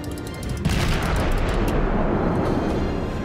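Naval gunfire from the destroyer Isakaze in World of Warships, a sudden heavy boom followed by a dense rumbling roar that holds steady to the end, with no voices over it.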